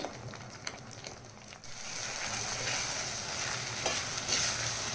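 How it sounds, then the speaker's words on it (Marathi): A spoon scrapes and stirs dry spices frying in a pan for cashew curry while they sizzle softly underneath, a close, steady frying sound with occasional clinks. "एकदा छान असं फ्राय करून घ्यायचे कोरडे मसाले"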